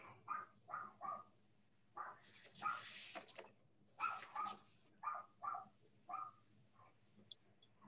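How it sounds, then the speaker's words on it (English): Several dogs barking outside in repeated short barks and yips, with a couple of longer noisy outbursts in between, fairly faint and distant, with no talking. "hopefully you can't hear my dogs barking outside."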